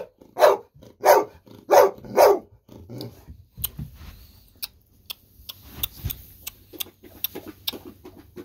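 A golden retriever barks four times in quick, loud succession close by, then falls quiet; faint indoor rustling and small clicks follow.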